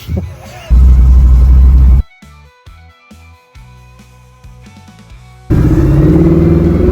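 A hot rod car drives off, its engine loud and rumbling in bursts, then fading into quieter intermittent sounds before a loud roar returns at the end.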